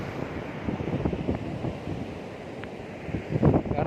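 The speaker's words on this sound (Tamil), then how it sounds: "உண்மையாக வந்து நல்லா சில்லுன்னு அடிக்குது காற்று" Strong wind blows at Pattinambakkam beach, rumbling and buffeting close against the microphone in uneven gusts, with the wash of surf underneath.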